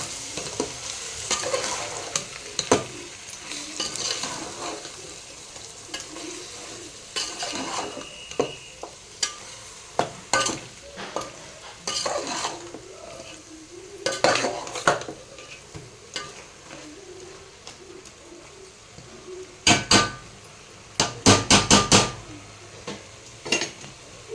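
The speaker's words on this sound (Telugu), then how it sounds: "బాగా కలుపుతున్నాను" Chicken pulao gets stirred with half a cup of curd in a pot, with irregular scraping and clanking of a spoon against the metal and a brief burst of sharp knocks near the end over a soft sizzle.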